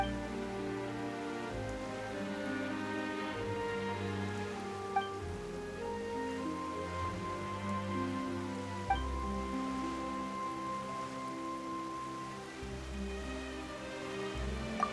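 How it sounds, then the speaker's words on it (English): Steady rain falls in Genshin Impact, a soft continuous hiss mixed with background music and occasional small pings, with no talking. "Why is it raining all..."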